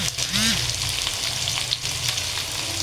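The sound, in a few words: potatoes frying in a pan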